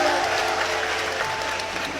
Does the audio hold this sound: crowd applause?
yes